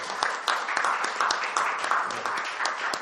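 An audience applauds after a speech at an election white paper presentation, with a short burst of dense, even clapping at moderate volume and no voices.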